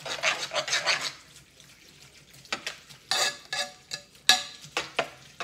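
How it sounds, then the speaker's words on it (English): Margarine gets stirred and tossed into a pot of Dorito mac and cheese, making wet, squelchy scraping strokes in quick repeated bursts with short pauses between, close by and fairly quiet. "So keep mixing it here"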